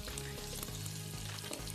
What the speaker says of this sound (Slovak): Necháme chvíľku orestovať cesnak.